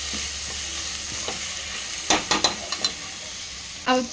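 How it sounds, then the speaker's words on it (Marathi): Masala stir-fried in oil in a pan for prawn rice: a continuous close sizzle broken by several sharp scraping and clinking strokes of a stirring spoon, the last louder near the end. "पूर्ण तेल सुटेस्तोवर आपल्याला हा मसाला परतवायचा आहे"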